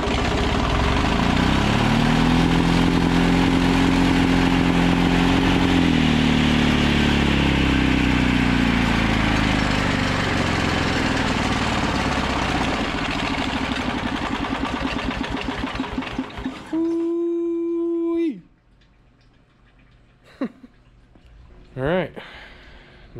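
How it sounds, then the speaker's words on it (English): An old engine on a Rosco Vibra-Pac roller packer runs loud and close, settling into a rough, throbbing idle with its pitch shifting before it cuts off, leaving a few faint clanks afterward. "Hope that satiated your need for an old engine to start up in this video."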